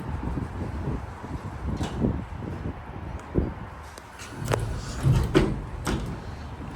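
A vintage Dover Impulse hydraulic elevator door in a Plano, Texas town center rumbles and thumps through its closing motion, with several low knocks and rattles over steady hum in an enclosed space.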